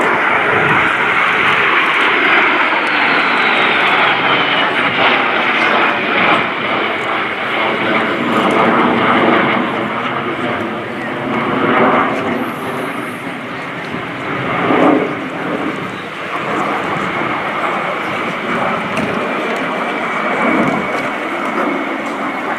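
De Havilland Vampire jet fighters of the Norwegian Air Force Historical Squadron roar past at the RIAT 2018 airshow, a loud sustained jet rumble that swells and shifts as they fly by.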